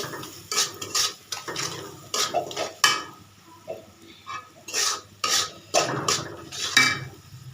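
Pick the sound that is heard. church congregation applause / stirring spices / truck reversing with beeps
stirring spices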